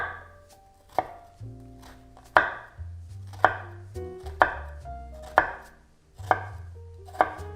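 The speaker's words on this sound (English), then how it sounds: "let's make our vertical cuts" Sharp knife chopping straight down through an onion on a cutting board, about nine crisp, evenly spaced cuts with a steady rhythm, close up and clear with no talk.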